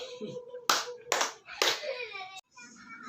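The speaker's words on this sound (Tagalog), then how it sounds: "Bigyan natin ng 3 palakpak si Katie." Three sharp, evenly spaced claps from a classroom group of children, each a crisp unison burst, with a teacher speaking faintly around them.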